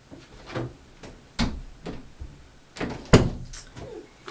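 A door is opened by children without knocking, a few brief knocks and thuds of the door and handle sounding close by in a quiet room, ending with one louder bang.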